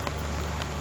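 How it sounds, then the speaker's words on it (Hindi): Monsoon rain falls steadily, a dense, close hiss with faint patter and no break, and no voices over it. "और हमारे यहाँ हो रही है बारिश"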